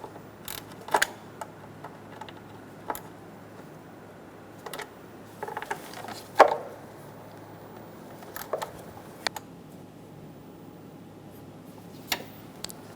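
A hand tool tightens the engine cover bolts on a 2003–2007 Honda Accord, giving scattered faint metallic clicks and ratchet ticks over quiet background hum, with one sharper clack near the middle.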